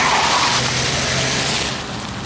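A minivan engine roars loudly at high revs during a burnout, tires hissing and squealing, the noise easing slightly as it goes on.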